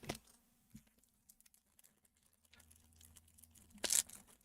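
A Big League Baseball hobby card pack is torn open with a short sharp rip near the end, preceded by faint crinkling and handling of the foil wrapper, close and alone.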